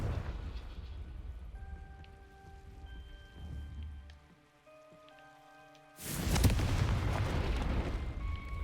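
A Confringo blasting spell explodes in Hogwarts Legacy: quiet sustained game-music tones first, then a sudden loud blast that rolls into a dense roaring rumble continuing to the end.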